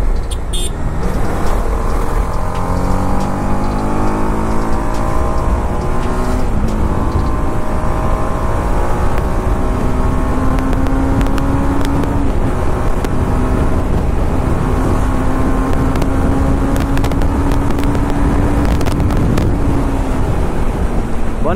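A BMW G 310 RR motorcycle cruising fast in fifth gear on a highway, its engine drone steady and loud with slowly shifting pitch and heavy wind rush, no voices.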